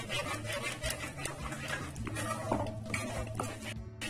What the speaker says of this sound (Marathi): छान असा मसाला चटचटत आहे